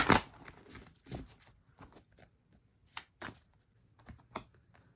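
A deck of tarot cards being shuffled close by: a sharp riffle burst at the start, then soft, irregular card flicks and taps spaced out, quiet with no talking.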